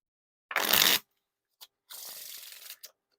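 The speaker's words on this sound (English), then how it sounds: "Now time for the riffle shuffle or bridge shuffle." A deck of Red Bicycle chainless playing cards is riffled in a quick burst, followed by a softer second riffle and a short snap as the cards settle.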